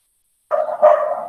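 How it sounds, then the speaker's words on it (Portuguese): A dog gives a short double bark indoors, two quick loud yelps after a moment of silence, close to the microphone. "cachorro latindo"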